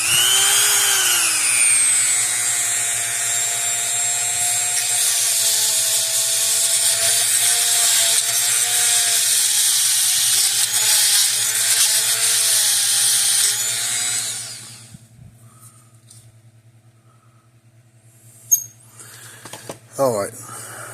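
A Gallagher electric fence charger, B80/B180/B280 series, running after being plugged in, giving a steady electrical hum with a whining mechanical tone for about fifteen seconds before cutting out, then a few faint clicks and knocks.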